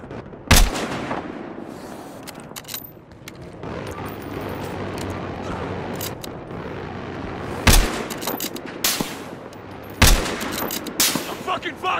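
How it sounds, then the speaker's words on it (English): Gunfire in the video game Battlefield Hardline, with sniper fire: a dense, continuous battle din of shots and fusillades, broken by three sharp, loud cracks near the start, middle and end. A voice talks over it. "Taking sniper fire!"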